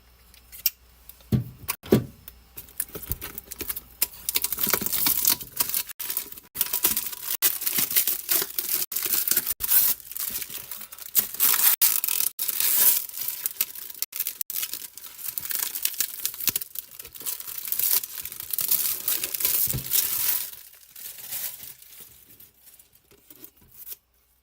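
A knife cuts open toy figure packaging: continuous close crinkling, scraping and tearing of plastic and cardboard, fairly loud and busy for most of the stretch before tapering off, with no talking.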